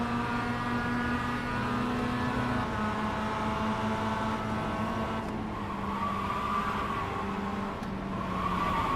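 Motorcycle engine on throttle at Barber race track, a loud, steady, close-up engine drone with strong harmonic tones whose pitch shifts a few times, as if through gear changes.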